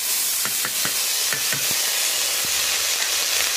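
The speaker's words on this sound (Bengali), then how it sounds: "এবারে এগুলোকে ভালো করে একটু ভেজে নেব" Kalai pea pods frying in mustard oil with dried chilli and chopped onion in a pan, a loud continuous sizzle with several spoon stirs and scrapes early on, close and without talk.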